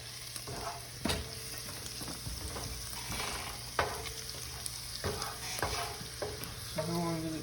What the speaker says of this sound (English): So we're just browning the garlic